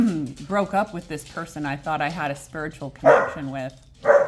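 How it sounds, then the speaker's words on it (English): Dogs bark intermittently in the background beneath a woman's continuous speech, with a couple of louder yips near the end. "Sorry about the dogs."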